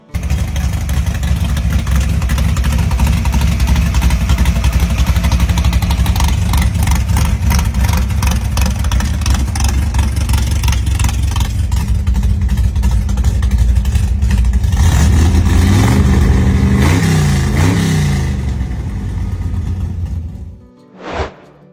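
A Ford Customline pro street car engine idles loudly and roughly with a lumpy, pulsing beat, then blips the throttle in a few rising revs before falling back and cutting off near the end.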